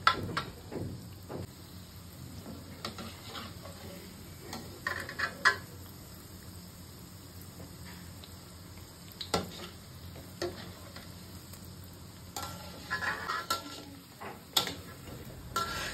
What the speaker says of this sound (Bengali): গ্যাস একদম সিমে রেখে বেশ অনেকটা সময় নিয়ে গোল্ডেন ব্রাউন করে ভেজে গজাগুলো তুলে নেব